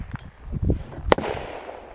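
A single sharp rifle shot from a tuned SKS or Saiga MK03 carbine during outdoor velocity testing, cracking loudly mid-clip with earlier dull thuds and a lingering echo.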